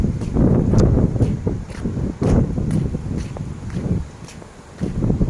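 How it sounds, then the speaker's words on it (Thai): Dry wind blowing outdoors by a riverside viewpoint, loud gusty rumble buffeting the microphone in uneven surges, with faint rustling mixed in. "มันลมแห้งพี่น้อง"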